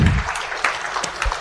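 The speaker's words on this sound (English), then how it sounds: "Can we please have a big round of applause for her?" Audience applause at a panel discussion on fund raising, a short round of scattered claps from a crowd with a few sharper individual hits, moderately loud.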